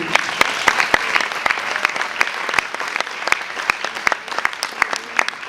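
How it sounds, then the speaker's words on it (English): Conference audience at a YWCA World Council session applauding, a sustained round of many hands clapping with crisp individual claps standing out, loud and even from start to finish. "Another round of applause, please."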